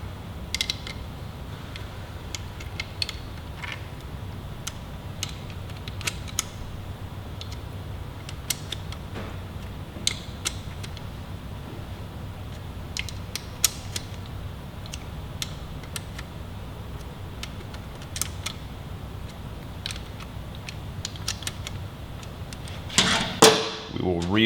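Kawasaki Ninja 400 engine cover bolts are torqued in stages, giving scattered sharp ratchet clicks and creaks over a low steady workshop hum, with a burst of clatter at the end.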